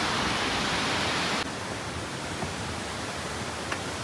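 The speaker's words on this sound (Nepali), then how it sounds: "यहाँ चाहिँ तलपट्टि खोलाबाट झरेको बनेको सानो झरना मजाले सुसाइरहेछ।" A small waterfall spilling from a stream, a steady broadband rushing murmur that stays continuous throughout, close and moderately loud, dropping slightly in level partway through, with no voices.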